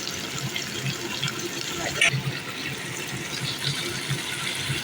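Water is poured into a pot of mutton seasoned with salt and turmeric, a close, steady liquid splash and trickle running the whole time with a few small clinks.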